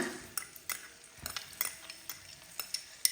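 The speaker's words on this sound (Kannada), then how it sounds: "ಫಸ್ಟಿಗೆ ನಾವು ಇದಕ್ಕೆ ಈ ಬೆಳ್ಳುಳ್ಳಿಯನ್ನು ಕ್ರಷ್ ಮಾಡ್ಕೊಂಡಿದ್ವಲ್ಲ ಇದನ್ನು ಸೇರಿಸ್ಕೊಳ್ಳೋಣ." Crushed garlic dropped into hot oil in a pan while making garlic chicken, with a soft steady sizzle under repeated clinks and scrapes of a spoon stirring against the pot, close up and without speech.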